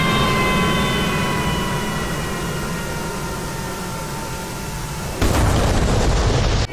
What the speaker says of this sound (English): See the explosion.